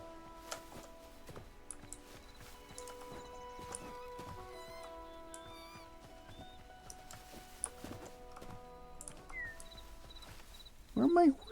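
Horse hooves clip-clopping with occasional neighs in the Hytale video game, irregular steps over game background tones, with a voice speaking and a louder burst near the end.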